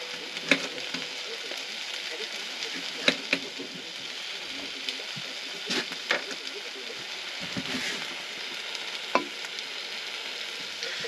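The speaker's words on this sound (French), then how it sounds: "les saucisses en train de cuire" Sausages sizzle steadily in a pan during outdoor van cooking, a constant crackling hiss with occasional sharper pops and scrapes.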